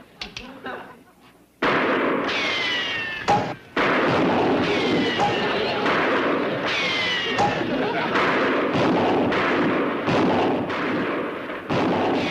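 Guns fired at a target about 100 yards off, a series of loud, booming reports spaced a second or two apart, each with a long rumbling tail.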